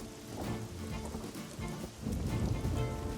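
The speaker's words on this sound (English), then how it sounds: "the sky darkened and a storm began" Steady rain falls during a cartoon storm, a dense patter of drops that stays fairly constant and swells a little louder toward the end.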